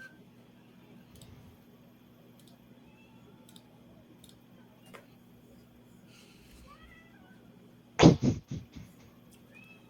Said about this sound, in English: she kind of meows the whole time I'm in here